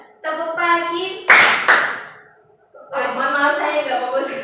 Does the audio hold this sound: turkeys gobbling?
no